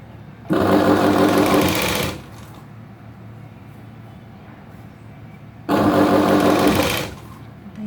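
A sewing machine stitches a V-neck blouse in two loud bursts of rapid mechanical whirring, each lasting over a second, separated by quiet pauses.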